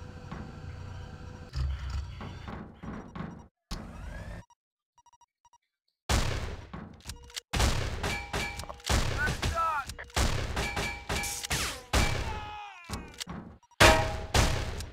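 Rapid bursts of gunfire in the video game Chrome crack repeatedly in quick succession, broken by a brief silence, loud and close with sharp transients.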